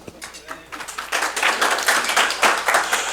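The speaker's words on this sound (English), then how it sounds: "A hand of applause, please." Audience applause at a nonprofit and NGO internet security conference, many hands clapping together and swelling steadily into a dense, sustained roar of claps.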